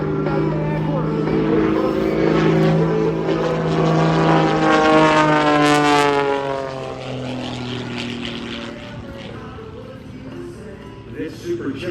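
A highly modified Super Chipmunk airshow plane with a custom 350 horsepower engine flies past, its propeller drone swelling loud then fading away, with a voice talking over the roar.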